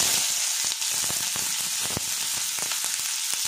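Chopped onion fries in hot oil with a dense, loud sizzle, and crackles and pops spread through it.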